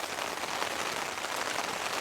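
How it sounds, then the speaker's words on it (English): Heavy rain drums steadily on a tent during a winter storm camping trip, a dense, even hiss of countless drops close overhead with no voices. "Hopefully the rain dies down a bit."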